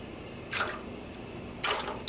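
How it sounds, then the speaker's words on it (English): Vinegar measured by the tablespoon goes into a pan of warm water for dyeing yarn, making two brief, faint liquid splashes about a second apart in a quiet room. "I'm now going to add 4 tablespoons of vinegar."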